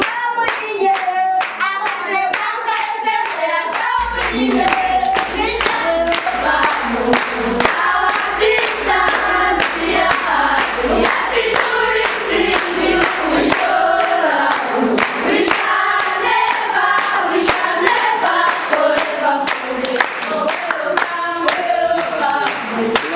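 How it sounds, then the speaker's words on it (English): Children at a gathering in Uganda clap their hands loudly and continuously in fast, uneven rhythm, with a crowd of young voices calling out over the claps. "Clap your hands!"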